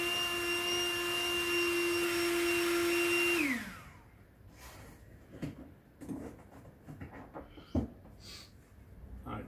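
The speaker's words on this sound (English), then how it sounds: "I can only imagine how that sound of that pump's going to come through on the video" An Exped Widget electric pump inflates a sleeping mat, running as a loud, steady whine, then cuts off and winds down. Quiet handling and rustling of the mat follow.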